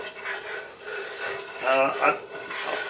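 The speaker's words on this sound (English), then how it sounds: "I'm gonna slowly start adding in the flour, let her stir it into the oil." A spoon rubs and scrapes through flour stirred into sausage grease in a pan for country gravy. The scraping is soft and continuous and fairly close, with faint voices now and then.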